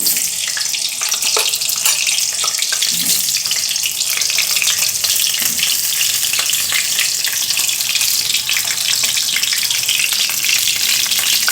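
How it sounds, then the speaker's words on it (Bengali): Potatoes frying in hot oil, a steady dense sizzle with crackling bursts running loud and continuous throughout, no voices. "এই যে তেলটার মধ্যে আলু দিয়ে দিচ্ছি।"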